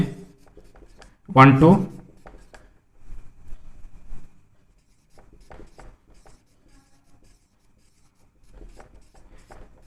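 Handwriting on a board or paper during a maths lesson on determinants, with soft scratchy strokes in brief bursts between stretches of a person talking.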